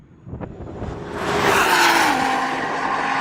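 A car launching at a drag race, its wheels spinning with a rising engine roar and squealing tyres that build and hold loud to the end, with no talk.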